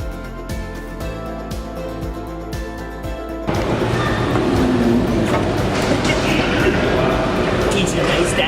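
Trains rumble through Newark train station, a steady loud mechanical roar with rhythmic clicking early on, then a denser, louder wash of rail noise and station bustle.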